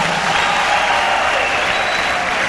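Church congregation applauding together, a dense steady clapping wash that fills the whole moment, loud and close, with a faint murmur of voices beneath.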